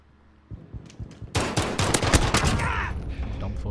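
Automatic gunfire in Call of Duty Modern Warfare erupts after a soft thump, a loud rapid burst of shots that rolls into a sustained rattle and echoing tail.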